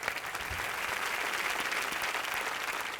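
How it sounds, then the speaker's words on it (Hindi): Steady applause from an audience at a Hindi comedy poetry show, dense and even throughout with no talking over it. "जोरदार तालियों से"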